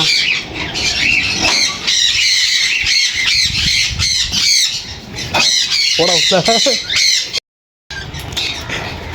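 Cockatiels and other caged birds at a bird farm squawk and chirp loudly and almost nonstop, close by, with someone talking briefly among the calls.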